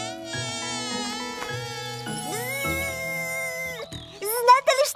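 A cartoon firefly buzzes in a high, steady, insect-like drone that rises and wavers, with animated character voices chattering over it near the end.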